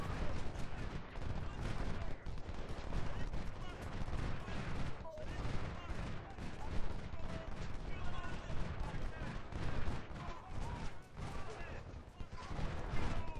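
Dense artillery and musket volleys rumble on and on in Ultimate General: Civil War at the Second Battle of Bull Run, with overlapping blasts and crackling gunfire.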